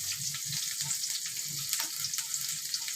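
Chopped onion and garlic fry gently in hot oil with a faint, even crackle and small pops, heard close and quiet with no talking.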